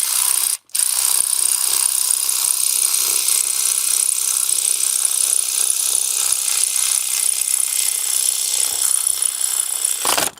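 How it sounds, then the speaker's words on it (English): An electric ratchet runs bolts down on a Jeep engine during head gasket work, a loud continuous buzzing drive that goes on for about ten seconds with a brief break near the start. "I use an electric ratchet to put these things in."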